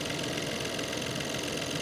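A tiny engine in a small SUV idles with a steady, slightly shaky rumble, heard close up and alone.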